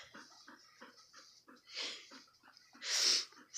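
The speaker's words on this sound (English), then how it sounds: "it's hard to do with a dog panting in your face and smiling" A dog pants rapidly and rhythmically right up close, with a couple of louder snorting, sneeze-like huffs breaking the rhythm.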